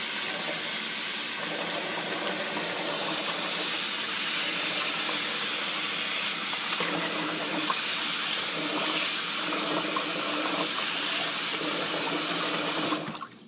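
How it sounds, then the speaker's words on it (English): Water pours steadily from a tap into a sink or basin being filled for washing wool, a close, continuous hissing rush that holds even for over twelve seconds before cutting off abruptly. "I'm going to put some more water in here"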